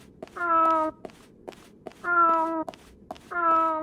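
A cat in Fragile Dreams gives three drawn-out, tonal meows at steady intervals, clear and close, with faint soft steps between them.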